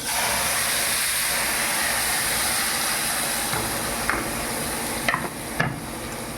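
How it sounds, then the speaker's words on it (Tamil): Steady sizzling and hissing from a hot pan of ground tomato chutney while a spoon scrapes and stirs, with a few sharper clinks near the end. "நல்லா கிண்டி விடுவாங்க."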